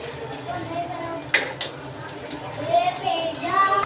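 Paneer tikka masala gravy stirred in a pan, with a spoon scraping and clinking against the metal in short bursts over a steady sizzle, a voice faintly audible in the background.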